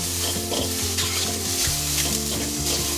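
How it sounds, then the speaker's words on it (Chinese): Loud sizzling in a wok as a spatula tosses and scrapes shiitake mushrooms, with frying crackle continuing underneath. "翻炒一下"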